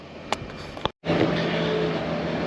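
A skid steer loader working at a backyard pool dig, its engine droning steadily as it scoops and dumps dirt at a stockpile, with a brief dropout before the motor noise swells back in, close and loud.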